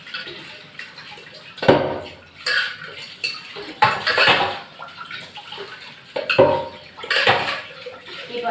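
Pots, plates and cutlery clatter and clink in a kitchen sink while a tap runs gently, irregular bursts of scraping and knocking over a soft trickle of water, close by with no talk.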